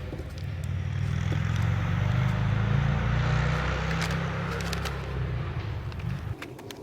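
A loud motorcycle engine rumble rises and holds for several seconds, then fades away as the motorcycle passes nearby outdoors.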